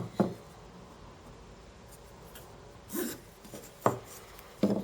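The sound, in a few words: pencil drawing around a piece of pine wood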